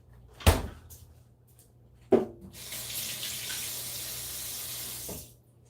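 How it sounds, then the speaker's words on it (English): A kitchen tap runs steadily for a few seconds while fingers are rinsed under it, following a couple of sharp knocks from the sink or a cupboard, then the flow shuts off. "I gotta wash my fingers."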